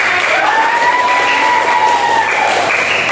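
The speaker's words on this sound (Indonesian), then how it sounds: "Tepuk tangan untuk kita." An elementary school classroom bursts into applause, a dense, loud patter of many hands clapping together, with a thin whistling tone running above it.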